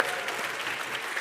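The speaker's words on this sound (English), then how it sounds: "Let's give them a round of applause." A brief, dense burst of audience applause at the 2023 UN SDG Awards ceremony, steady and moderately loud for its whole short length, with no voices over it.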